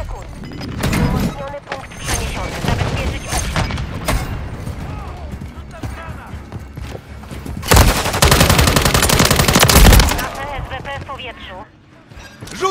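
Rapid machine gun fire and single gunshots in Call of Duty: Modern Warfare 3 team deathmatch multiplayer, with loud repeated bursts, a dense barrage near the end, and game voices speaking among the shots.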